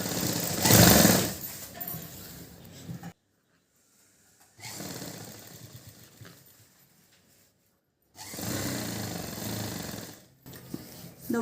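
A sewing machine stitches a silk skirt for a four-year-old child in three loud mechanical bursts, separated by short silent pauses.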